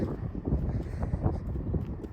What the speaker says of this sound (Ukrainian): Ой, тут такий вітер